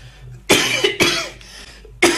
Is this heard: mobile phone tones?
no